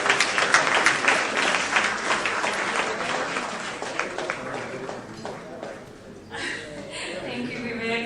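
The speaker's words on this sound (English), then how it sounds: "Once again, a round of applause to Vivek Oberoi." An audience at a charity gala for cancer patients applauds Vivek Oberoi: dense, loud, sustained clapping that thins slightly toward the end, with a voice speaking over the final seconds.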